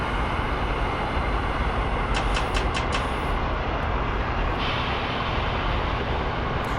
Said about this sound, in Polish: Bardzo fajne dźwięki ma ta lokomotywa.